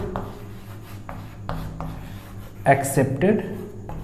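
Chalk or marker scratching across a board during a mathematics lecture on rational inequalities: a few brief, scratchy strokes at moderate level, followed by someone speaking close by.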